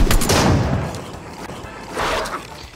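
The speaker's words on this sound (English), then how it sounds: "I'm trying to shoot these people" Gunfire in Fortnite, a loud close burst of rapid shots at the start, then a second heavier blast and rattle a moment later, with a quieter gap between.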